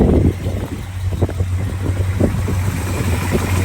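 A 1976 Ford F150 with headers idles close up, a steady low engine rumble with light ticking and air noise, smooth and continuous without talk.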